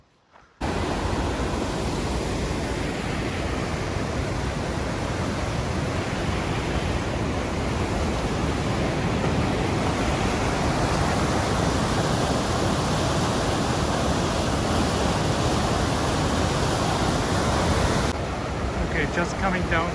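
A Yosemite waterfall roars steadily near a bridge on a mountain trail, a dense unbroken rush of falling water that holds at the same loud level throughout.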